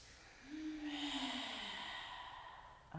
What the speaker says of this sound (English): 3 more big breaths.